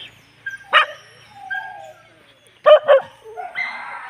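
Dogs at a stray dog shelter in Nepal bark and yip in short bursts, close and loud, with whimpers and quieter pauses between the barks.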